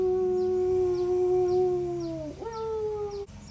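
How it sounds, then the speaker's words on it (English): A husky dog in Thailand lets out one long, loud howl close by, a sustained tone that slides down and then breaks upward before trailing off. "Howl, Goggy, howl."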